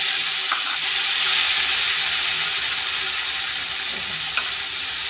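Spices fry in hot oil with two bay leaves, giving a steady, close, even sizzle and crackle throughout, with a faint utensil tap near the end.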